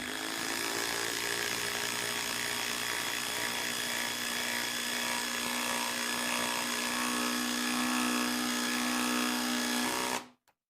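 Dewalt 3/8 inch cordless impact wrench running at full trigger, a steady loud high-pitched whine with a constant hammering buzz that holds for about ten seconds before cutting off abruptly.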